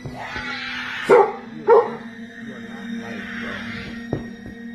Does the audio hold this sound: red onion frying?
no